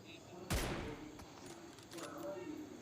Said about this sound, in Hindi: यहाँ से थोड़ी बहुत आवाज़ आती है फायर की